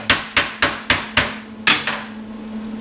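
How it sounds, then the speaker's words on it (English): A ball peen hammer strikes sheet metal held on a dolly while a cab corner is shaped from recycled metal. Five sharp, close metallic blows land in an even rhythm, then a sixth comes after a pause and rings out. "You saw me using the ball peen."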